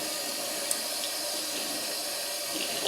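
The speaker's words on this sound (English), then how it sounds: "So I'm just going to rinse this through a few times" Tap water runs in a steady, hissing stream into a sink as hand-dyed yarn, over-dyed from pink to brown, is rinsed, with faint splashes and no speech.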